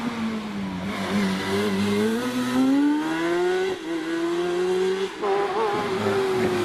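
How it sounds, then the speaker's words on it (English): A Jedi race car with a rear-mounted GSXR motorbike engine climbs the hill at a club hill climb, its high-pitched engine screaming and rising steadily through the gears, loud and close, with brief dips at gear changes. "You can hear that motorbike engine screaming all the way up the hill."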